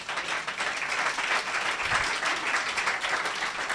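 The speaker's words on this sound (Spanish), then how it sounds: "dale un aplauso al Señor" A congregation at a church service applauds the Lord with sustained, thick clapping that stays loud and even throughout, with no voices above it.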